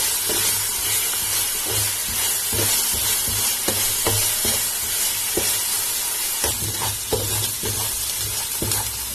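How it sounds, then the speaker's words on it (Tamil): Ginger garlic paste sautés in a pan for Chettinad mutton biryani, giving a continuous close sizzle with scraping stirring strokes throughout. "இஞ்சி பூண்டு பேஸ்ட் நல்லா வதங்கணும், இல்லைன்னா பச்சை வாசனை அடிக்கும்."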